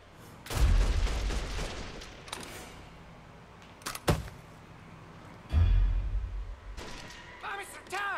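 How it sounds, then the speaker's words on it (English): Gunfire rings out in Mafia 3: Definitive Edition on PS4 Pro: several heavy, booming shots and bursts spaced a few seconds apart, some with a rumbling tail, mixed with quieter game sounds and a voice talking. "See now, where they're shooting from."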